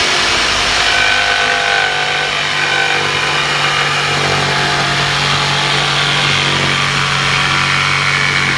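A generator runs continuously at a worksite, a steady, loud engine drone with a constant hum that does not rise or fall, and no one speaks over it.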